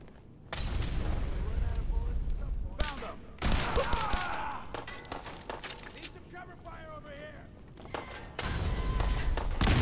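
Grenade explosions in Fallout 4 at the Corvega plant come as several loud booming bursts broken by stretches of gunfire and clatter, with voices talking between the blasts.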